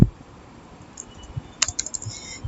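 Typing on a computer keyboard while entering Python code for a neural network: a few scattered soft clicks, then a quick cluster of sharper keystrokes near the end, all fairly quiet with no talking.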